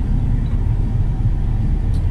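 A car's 6.2-liter V8 engine and exhaust give a continuous low, burbling rumble, close and steady for a couple of seconds.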